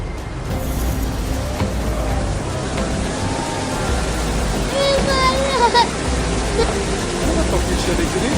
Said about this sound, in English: These people were fortunate to see a desert cliff turn into a waterfall during heavy flooding.